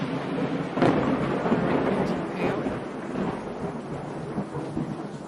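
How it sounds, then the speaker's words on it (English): Thunderstorm sound effect for a tabletop roleplaying game, a loud rolling thunder crack early on fading into steady heavy rain hiss. "the storm was getting louder and more intense"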